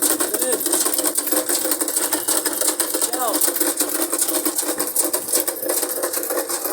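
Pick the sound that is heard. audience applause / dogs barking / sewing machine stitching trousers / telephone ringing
sewing machine stitching trousers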